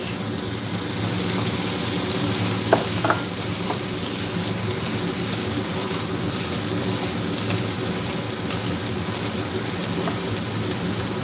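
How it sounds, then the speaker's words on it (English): Chinese sausage frying in a pan over medium heat for yam cake filling, a steady close sizzle with a couple of brief clicks early on. "Fry them in medium heat until it's fragrant."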